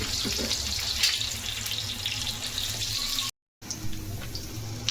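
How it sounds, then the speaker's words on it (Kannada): Chopped onion sizzling in hot oil in a pan for mutton chukka, a steady close hiss with crackle running throughout, broken by a brief silent gap near the end. "ಎಣ್ಣೆ ಕಾದಿದೆ, ಒಂದು ಆನಿಯನ್ ಕಟ್ ಮಾಡ್ಕೊಂಡಿದ್ದಾನೆ"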